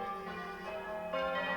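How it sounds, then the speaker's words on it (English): Church and chapel bells peal on Christmas morning in a staged performance of A Christmas Carol, a sustained, steady ringing tone with overlapping bell harmonics, fairly soft throughout. "Now, church and chapel bells ring out"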